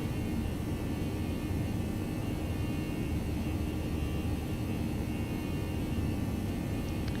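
An Airbus A319 in X-Plane 11 rolls down the runway for takeoff at LAX, a steady broadband engine roar and rumble held at constant loudness throughout.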